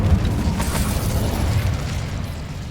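Incendio fire spell cast in the video game Hogwarts Legacy, a loud roaring burst of flame and rumble that fills the short moment, close and dense with no voice.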